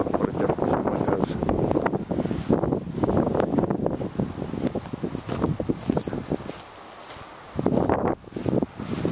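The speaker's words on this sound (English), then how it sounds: "Windy today." Strong wind gusts roar and buffet the microphone outdoors at a mobile home during window replacement, loud and continuous with brief lulls and surges.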